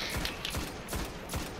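Enemy gunfire in the Destiny beta on PS3: a string of about four sharp, evenly spaced shots crack loudly over a steady combat backdrop, with no talking.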